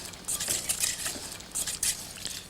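A spoon stirring a dressing of garlic and sugar in a bowl, producing light, repeated scraping and clinking strokes in a steady rhythm, close and fairly quiet, with no talking.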